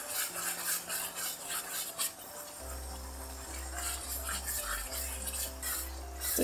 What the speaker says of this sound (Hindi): मिक्स करेंगे और अच्छे से इसकी हमने भुनाई करनी है